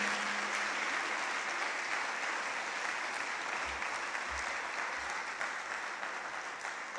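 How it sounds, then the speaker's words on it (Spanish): Loud, sustained applause rises from a church congregation during a Spanish-language worship sermon. The dense clapping holds steady for about seven seconds. "Da un aplauso fuerte a Jesús."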